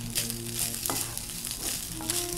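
Red chilli rice frying in ghee gives off a steady close sizzle, with occasional stirring scrapes and clinks of a utensil in the pan.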